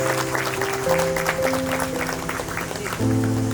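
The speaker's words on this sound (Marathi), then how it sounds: "जोरदार टाळ्या." Applause at a sportsplex opening ceremony, a crowd clapping steadily and loudly for a few seconds, with a brief swell near the end.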